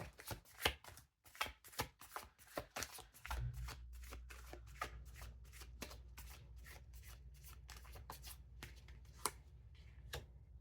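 Tarot cards being shuffled by hand during a reading, with rapid crisp riffles and taps in bursts, then a low steady hum joining under continued quick card flicks.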